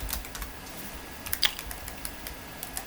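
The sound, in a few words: typing on a computer keyboard in Excel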